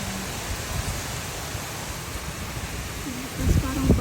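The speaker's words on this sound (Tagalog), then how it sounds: "kasi sobrang lakas ng hangin. Ayan, lakas ng ulan." Strong rain driven by fierce wind during a storm, a steady, dense broadband roar that fills the whole stretch, with a voice speaking over it near the end.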